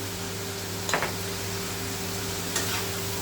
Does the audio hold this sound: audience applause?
no